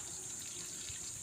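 Shower water runs in an even, quiet hiss with no pauses or other sounds.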